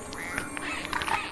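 Rubber duck quacking in the video game Lego Harry Potter, a few short squeaky quacks scattered over steady game music and ambience.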